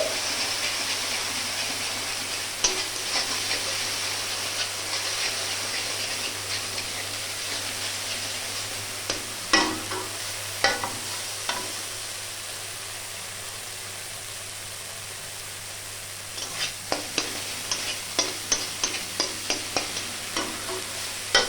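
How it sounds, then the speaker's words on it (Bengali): Spice paste being stir-fried in a pan for a spicy fish curry, a steady oily sizzle with a spatula scraping and knocking the pan, bursts of clatter midway and a quick run of taps near the end. "সমস্ত মশলা আমি ভালো করে কষে নিচ্ছি।"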